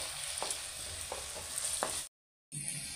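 Ginger-garlic paste and green chillies sizzling among fried onions in a pan, a steady close hiss with several spoon-stirring scrapes, a brief silent gap near the end before the frying resumes.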